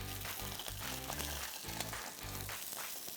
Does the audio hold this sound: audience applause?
no